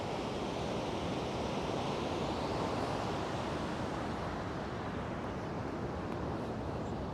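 A massive waterfall in the British Columbia backcountry, a dense, constant roar of rushing water, broad and steady with no breaks or voices.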